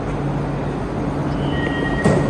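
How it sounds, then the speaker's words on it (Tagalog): An MRT train at Kampung Batu station in Malaysia rumbles loudly and steadily, a faint squeal of wheels or brakes rising over the roar near the end. "andito tayo sa MRT, Kampong Batu Station"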